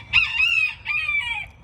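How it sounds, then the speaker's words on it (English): A farm rooster crows loud and close, one full cock-a-doodle-doo in two drawn-out parts, with no other voices. "hold for rooster"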